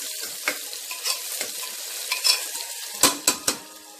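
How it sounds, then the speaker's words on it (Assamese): Onions frying in a pan over a medium gas flame for corn pulao, a quiet sizzle broken by repeated scraping and clanking of a spatula stirring, loudest in a quick burst near the end. "মিডিয়াম গেছত পিঁয়াজখিনি গুলপীয়া হোৱালৈকে ভাজিম।"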